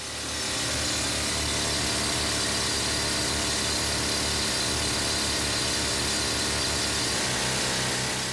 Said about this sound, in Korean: 가장 먼저 옥 주변의 돌에 폭약을 장착할 구멍을 뚫는 작업이 시작됐다